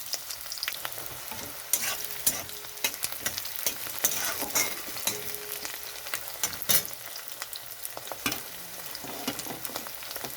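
Onions frying in hot oil in a kadai after garlic, ginger and bay leaf, with steady close sizzling and repeated scraping stirs of a spatula against the pan, no talking.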